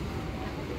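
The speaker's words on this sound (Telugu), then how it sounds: "బిక్కవోల్ రైల్వే స్టేషన్ నుంచి మన ట్రైన్ అయితే బయలుదేరిపోయింది" A MEMU local express train on the Rajahmundry to Visakhapatnam line pulls away from Bikkavolu railway station, giving a steady, dense rumble of wheels and carriage noise heard from inside.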